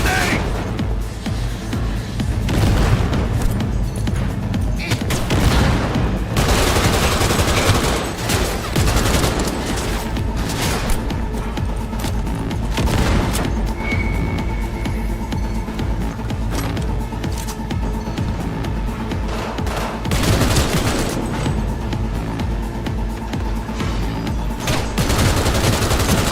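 Heavy gunfire and grenade blasts from the video game Cyberpunk 2077 roar continuously, with dense overlapping bursts and booming explosions filling the whole stretch at a loud, steady level.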